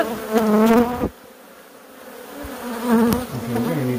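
Dense, loud buzzing of killer bees swarming around an off-grid hive, steady droning swells and dips close by, with a brief lull midway before the buzz rises again.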